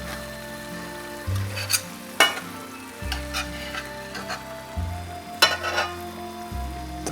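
Shakshuka sauce of tomato sizzling steadily in a pan as ingredients go in, with sharp crackling bursts at moments of adding and a continuous frying hiss underneath, close and moderately loud.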